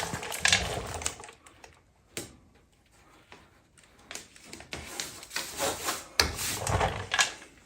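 Masking tape being pulled and pressed along car body lines around a headlight before sanding, heard as close, intermittent rips, rubs and crinkles in short bursts with quiet gaps.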